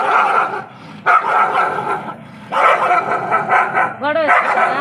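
A dog barks loudly and repeatedly, with yips and a short whimpering bark near the end, while people talk over it outdoors in the evening.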